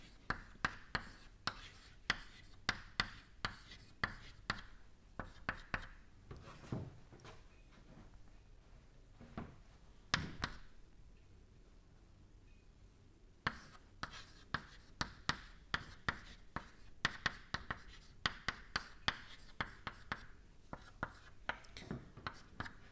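Chalk or marker writing on a board during a fluid mechanics lecture, a steady run of quick tapping strokes and scrapes, close and fairly faint, with a brief pause in the middle.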